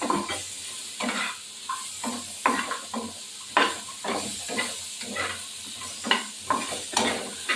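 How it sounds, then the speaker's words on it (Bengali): Katla fish pieces are tossed in a frying pan, sizzling oil with repeated scraping stirs in an irregular rhythm, close and moderately loud, no voices. "এই যে মাছ ভাজা রয়েছে, মাছগুলো দিয়ে দেবো।"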